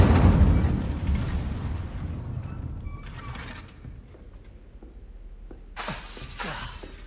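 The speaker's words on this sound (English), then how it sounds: "Incendio. Setting things ablaze is certainly cathartic, isn't it?" An Incendio fire spell in a Harry Potter-style video game bursts into a loud, crackling whoosh of flame that slowly dies away. Sharp shattering and rustling bursts follow near the end.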